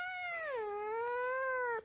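A cat meows continuously while being held, one long, loud, drawn-out wail with a falling then rising pitch that cuts off abruptly near the end.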